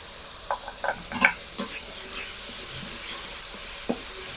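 Ginger garlic paste sizzles in hot oil with fried onions as a spatula scrapes and stirs the pan, a steady hiss broken by several sharp clinks and scrapes.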